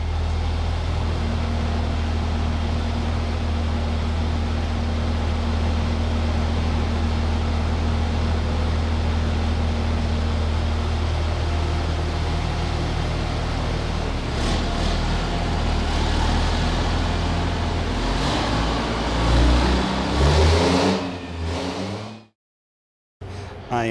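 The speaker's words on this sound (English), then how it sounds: "try to get some sound bites here of this manual transmission truck going through this test" A manual-transmission Cummins diesel truck with a G56 gearbox runs a fuel consumption test on a dyno, its engine droning loud and steady for about twenty seconds before revving harder and cutting off abruptly near the end.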